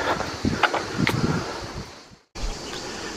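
Wind gusts blow outdoors in the Galamus gorge near Saint-Paul-de-Fenouillet, a steady rushing noise against the microphone with brief rustles, cut by a short dropout before resuming.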